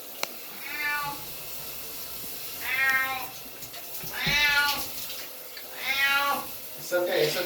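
A cat meows repeatedly during a shower or bath, four or five drawn-out, loud cries with pauses between, over a soft background hiss of running water.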